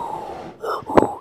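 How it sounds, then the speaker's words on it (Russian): Raspy, wheezing breaths from a creature in the horror game Bunker 21, a steady hiss followed by two louder snorting gasps near the end. "Дышит."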